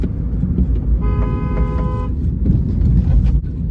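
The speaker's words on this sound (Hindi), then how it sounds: "अभी कार जो है ना वो सीएनजी पे ही चल रही है।" CNG-powered car driving on a road, a steady loud low rumble of engine and road noise with a brief tonal toot in the middle.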